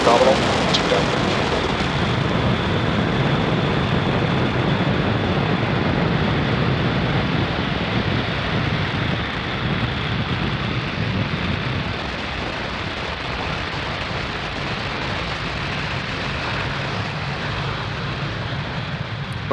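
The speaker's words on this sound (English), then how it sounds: "Falcon 9 successfully lifting off from pad 40 at Cape Canaveral Space Force Station" A SpaceX Falcon 9 rocket lifting off from pad 40 at Cape Canaveral Space Force Station gives a continuous, distant broadband roar and crackle that holds steady and then slowly fades.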